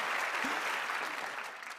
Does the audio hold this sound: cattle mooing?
no